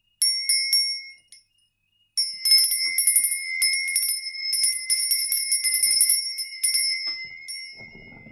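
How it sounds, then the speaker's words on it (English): A handheld bell rung repeatedly in bright, clear strikes, bursts of rapid rings separated by a short pause, close and loud with lingering ringing tones. "I'm going to be ringing my bell"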